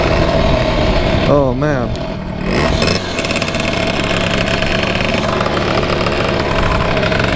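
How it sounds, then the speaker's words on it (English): A 120cc stroker engine, apparently on a cart, runs steadily and loudly throughout, with a brief rising rev near the start. Someone speaks briefly over it. "We're gonna pull out the stroker right now and take it for a little spin."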